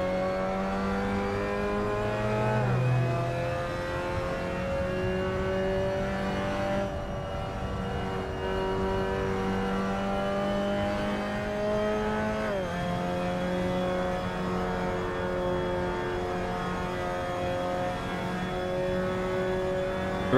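A race car's engine in the Assetto Corsa sim racing game drones loudly and steadily, its pitch climbing through the gears with sharp drops at shifts and lifts into a chicane. A faint tire noise sits underneath, and no one talks.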